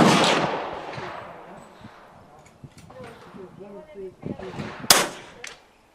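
A Vudoo Three 60 rifle fires at an outdoor range, a sharp close report at the start followed by decaying echo, then another crack near the end, with a voice talking in between.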